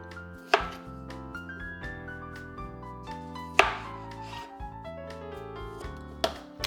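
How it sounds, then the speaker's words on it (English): Knife chopping potatoes for a chicken potato bake: a few sharp, separate chops, clear and fairly close, spaced over background music. "So just cut all your potatoes."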